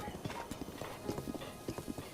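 Horse hooves clip-clop at a steady trotting rhythm in The Legend of Zelda: Breath of the Wild, close and continuous over a low game backdrop.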